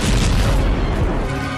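A lightning bolt strikes and topples a tree in a film scene, a loud sustained rumbling boom that fills the whole short span without letting up.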